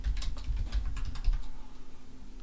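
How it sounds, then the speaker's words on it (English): Keys clatter on a computer keyboard in a quick, steady run of close, distinct taps that slows slightly toward the end, with no talking over it. "And now I'm just going to start typing"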